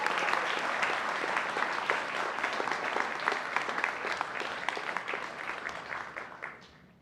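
Steady applause from a crowd at a college honors convocation, dense and continuous clapping that holds for several seconds before tapering off at the end.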